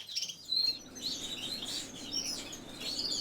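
Small pet birds chirp and tweet in a steady, lively stream of high, quick calls from several birds nearby, with no talk.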